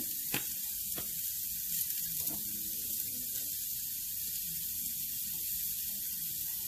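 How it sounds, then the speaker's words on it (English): Seasoned meat lying seasoned side down in a hot pan, a faint steady sizzle and hiss with a few sharp taps early on, otherwise even and unbroken. "Season side down. Good sizzle."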